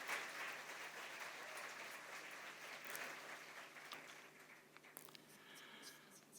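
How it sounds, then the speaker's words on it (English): Audience applause at a parliamentary symposium, a dense steady wash of clapping that holds for several seconds, then thins and fades toward the end. "This is your round of applause."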